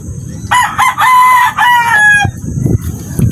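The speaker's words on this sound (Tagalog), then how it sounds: "Pero ang dami ng alaga nilang manok." A rooster crows loudly and close, one long drawn-out call among a flock of chickens, with soft clucking and farmyard murmur around it.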